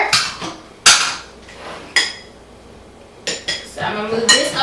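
A fork stirring cinnamon and pumpkin spice into flour in a bowl, with a few sharp metallic clinks and scrapes against the dish separated by quiet gaps, close and clear.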